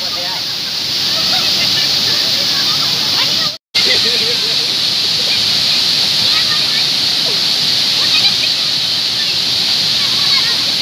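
A waterfall at a Nepali roadside beauty spot roars as a steady, loud broadband rush, continuous for the whole stretch apart from one brief dropout, with faint voices of the crowd nearby.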